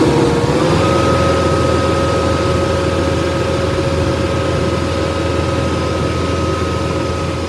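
An Aupax 4110 tractor engine runs steadily under load during a rear hitch lift test on a dynamometer, a loud continuous drone with a constant whine and no talk.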